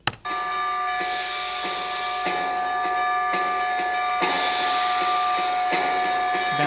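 Concert band playing a piece imitating a steam train's hiss with a continuous breathy shushing that swells in pulsing waves over sustained tones.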